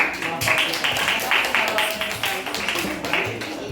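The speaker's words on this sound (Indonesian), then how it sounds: "Sekali lagi kita beri tepuk tangan untuk kelompok 3" An audience at a group presentation session applauds group 3 with brisk, dense clapping that holds steady and loud throughout, with faint voices mixed in.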